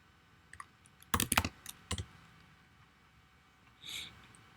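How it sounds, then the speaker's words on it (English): Keys clatter on a computer keyboard in a short close burst of rapid taps, followed by a few isolated clicks and a soft breath in an otherwise quiet room. "And now I'm going to type in hatch."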